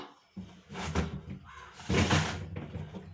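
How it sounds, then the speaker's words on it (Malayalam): A small pan is set down on a gas stove burner, giving a couple of clattering metallic knocks and scrapes at close range, with no talk over it. "അപ്പൊ നമ്മളെ കുഞ്ഞിച്ചട്ടി വെച്ചു കൊടുക്കാം"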